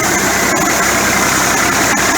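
A made-in-Pakistan Millat MF 240 three-cylinder tractor idles steadily nearby, a loud continuous diesel chug with an even rhythmic throb and no voices.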